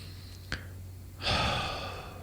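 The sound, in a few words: deep breath during tapping exercise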